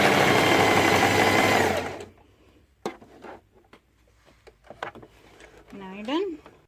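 A sewing machine back stitches fabric for a DIY dog tunnel, running loud and steady for about two seconds before stopping; quiet handling clicks and a short voice follow.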